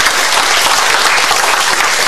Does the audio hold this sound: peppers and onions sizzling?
no